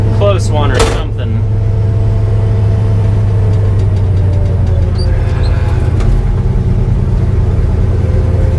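A Gleaner TR70 petrol combine harvester engine runs loudly and steadily close by, a deep continuous drone after some clatter at the start, with a person talking over it.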